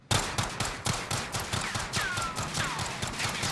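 Akimbo M19 pistols fitted with a muzzle brake firing in Warzone, a fast run of loud, sharp shots with slightly uneven spacing that keeps going through the whole stretch, with faint game effects behind it.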